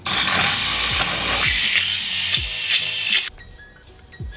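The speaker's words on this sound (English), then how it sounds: "So I have to get a 15mm bit, get a countersink." A power drill countersinks with a 15mm bit while building a DIY lawn striper, whirring loudly and steadily for about three seconds, then cutting out abruptly.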